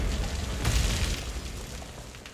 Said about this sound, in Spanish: O sea, explosión nuclear